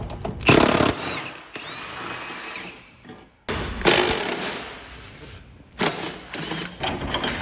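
Impact wrench or power drill whirring in three separate bursts while removing subframe bolts on a 2020-25 Subaru Outback Wilderness, loud and close, with quieter mechanical clatter between the bursts.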